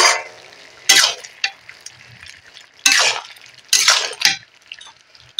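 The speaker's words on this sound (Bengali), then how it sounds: "ঢাকাটা খুলে দেখে নেব" A metal lid lifted off a cooking pot of meat curry with yogurt and potatoes, with a few clanking metallic clinks over the soft sizzle of the simmering food.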